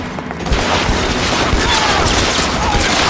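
Dense, continuous gunfire from a shootout in the video game L.A. Noire, loud and sustained with overlapping shots and rattling bursts throughout.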